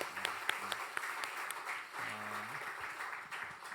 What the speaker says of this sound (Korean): 수고하신 선생님들을 위해서 박수 한번 쳐주세요